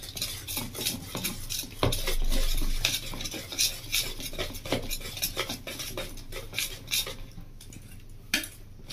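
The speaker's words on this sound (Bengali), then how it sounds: "ডিমটা দিয়ে ভালো করে আমি একটু এটা ফাটিয়ে নেব। যাতে সবজির সাথে ডিম বেসন ভালোভাবে মেখে যায়।" An egg is beaten with a spoon into a vegetable and gram flour batter in a bowl, giving rapid, steady clinking and scraping strokes against the bowl, close and fairly loud.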